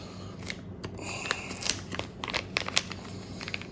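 A razor-sharp knife slicing through the packaging around a 10-ounce silver bar, producing close, crisp crackling and snipping ticks with scattered sharp plastic crinkles over a steady low background.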